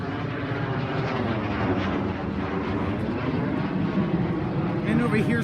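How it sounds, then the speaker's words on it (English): Many central air conditioning units and heat pumps run together outside a church, including a large 1999 unit of roughly eight or nine tons, making a dense, steady rumble and whir of compressors and fans throughout. "And over here's a large bunch of air conditioners. And a lot of them are running."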